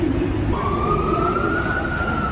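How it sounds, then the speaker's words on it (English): Emergency vehicle siren on a London street, a sustained wailing tone rising in pitch and holding, heard at moderate distance over constant traffic rumble. "Sirens. Sounds like London."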